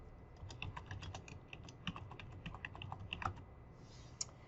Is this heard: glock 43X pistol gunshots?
no